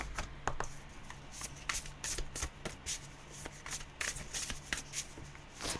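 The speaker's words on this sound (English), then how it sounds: "Now this deck's not very responsive, so I'm only shuffling it 3 times and then we're pulling." A tarot card deck being shuffled by hand, rapid papery riffles and slides coming in bursts, close and fairly quiet with no talking.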